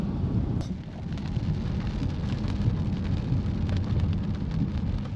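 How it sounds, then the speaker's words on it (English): Steady rain falls outdoors on Vancouver Island near Victoria, a constant dense hiss with a low rumble throughout. It is moderately loud, with no voices. "after a short time, it rains again"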